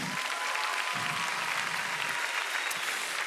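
A church audience applauds at a worship gathering, dense sustained clapping filling the space evenly for a few seconds, with faint low crowd murmur underneath and no speech.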